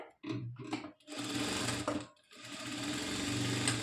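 A sewing machine stitches a blouse in short runs: two quick bursts, then two longer steady whirring stretches separated by brief pauses, close and fairly quiet, with no talking.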